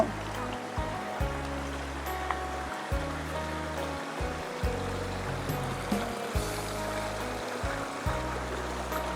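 A stream flows near rice fields, giving a steady, soft rushing of water with intermittent low rumbling bursts beneath it.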